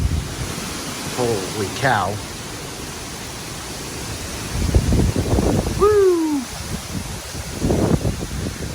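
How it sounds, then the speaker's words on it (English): Strong hurricane gusts roar past a carport in Tampa during Hurricane Ian, coming as loud, surging rushes of noise that rise and fall. A person exclaims over the wind, and at one point a sharp, sliding whistle cuts through. "These wind gusts are definitely becoming more and more frequent."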